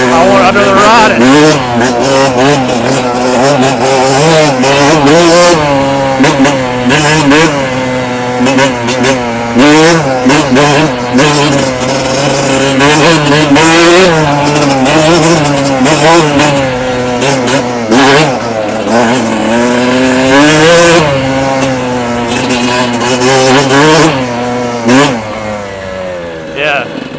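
A Kawasaki KX 125 dirt bike engine revs loudly and close while riding, its two-stroke pitch climbing and falling continuously with repeated throttle surges, and a voice talks over it at points.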